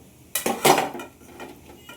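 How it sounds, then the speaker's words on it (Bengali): Potatoes tip into hot oil seasoned with cumin and bay leaf in a metal pan, giving a sudden close clatter and splash that fades within about a second. "এইবার আমি আলুগুলোকে ছাড়বো"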